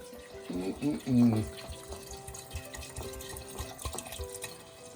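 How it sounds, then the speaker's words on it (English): Red wine from St. Helena in the Napa Valley is poured into a pot of Bolognese in a home kitchen, a close gurgling, splashing stream, with a brief voice early on. "we're going to put our 709 milliliters of wine"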